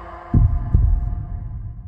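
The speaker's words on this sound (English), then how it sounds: "where you can hear your own heartbeat" A heartbeat sounds as two deep, booming low thumps about half a second apart over a dull hum, close and heavy with no speech.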